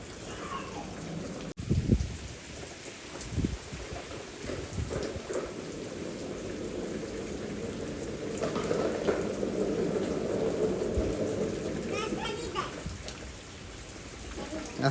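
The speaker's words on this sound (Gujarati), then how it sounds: "અહીંયા પણ વરસાદ બહુ આવતો છે" Steady heavy rain pours down during monsoon flooding near the Ambika River, a dense continuous hiss that swells louder midway, with a few sharper thuds and some talk in the background.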